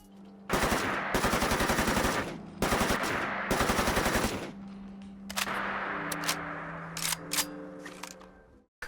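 Modded weapon gunfire in the video game Fallout 4: several loud rapid automatic bursts of a few seconds each, followed by quieter sustained firing with a ringing tone and scattered single shots.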